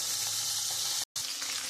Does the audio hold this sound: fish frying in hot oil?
yes